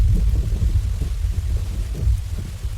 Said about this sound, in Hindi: बारिश की बूंदें अब और भी तेज हो गई हैं। तूफान की रफ्तार भी काफी बढ़ गई है। बिजली लगातार गिर रही है।